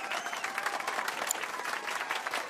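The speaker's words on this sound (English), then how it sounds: "let's give our pianist a warm round of applause" Crowd applause for a pianist's performance at a concert in the video game Final Fantasy VII Rebirth, a steady, dense wash of clapping that holds at an even level throughout.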